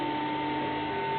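A 3D printer runs with a steady machine hum and a constant whine, faint and unbroken, with no talking.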